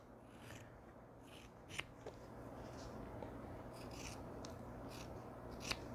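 Scissors cutting off fabric pieces for a quilt block, quiet snipping and rustling close by, with a few sharp clicks of the blades.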